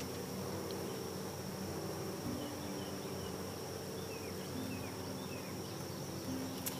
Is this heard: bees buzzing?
yes